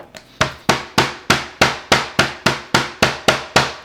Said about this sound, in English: I'm going to start out with this serrated edge of our tenderizing mallet